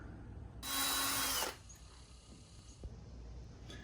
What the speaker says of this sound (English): I've got my hole drilled and countersunk.